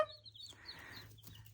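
Americana-mix chicks peep in a run of faint, high, quick chirps close by over a low steady hum, with no talking.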